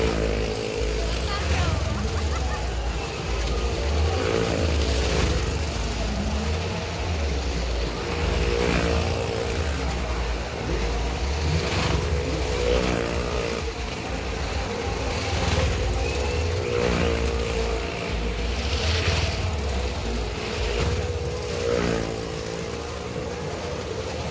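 Motorcycles and a car circle inside a well-of-death wooden drum at a jatra fair, their engines droning in a continuous loud roar with rising and falling sweeps, mixed with crowd noise and people talking.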